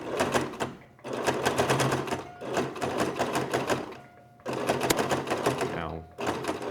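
A sewing machine stitches a folded, pressed hem on fabric for a clown costume, running in loud rapid bursts that stop and restart, with short pauses between runs.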